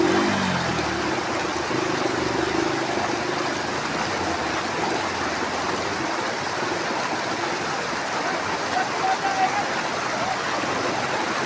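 A flooded mountain stream with a washed-out bridge rushes loudly and continuously, a dense unbroken roar of churning water with a brief low engine-like tone fading at the start.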